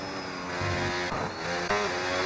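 Race cars in a racing video game sweep through turn 5 of the Bahrain circuit, their engines whining in shifting pitched tones that rise and fall as they pass through the bend, moderately loud with no commentary over them.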